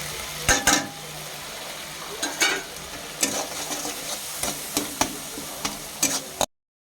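Salt, turmeric and chili powder fry in a hot pan for paneer kofta masala as a spatula stirs, sharp scraping knocks against the pan recurring irregularly over a steady sizzle, close and fairly loud.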